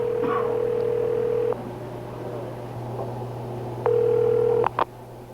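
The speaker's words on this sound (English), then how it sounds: "places the call to the pay station number" A telephone line carries a steady tone that breaks off, then a second tone and a few quick dial blips as a call is placed to a payphone number, loud and close.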